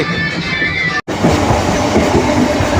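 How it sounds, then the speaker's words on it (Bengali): A local train pulls out of Howrah station with a loud, steady clickety-clack rumble of wheels on rails, continuous apart from one very short dropout, and no voices. "হাওড়া থেকে হাওড়া ছেড়েছে, ট্রেন ছেড়ে এখন বেরিয়ে যাচ্ছে।"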